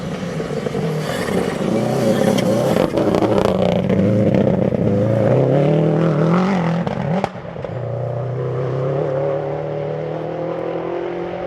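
A rally car, formerly an open-lights and super production car, climbing a gravel stage at the Oregon Trail Rally, engine revving hard and rising before a sharp crack and a lower steady drone as it passes.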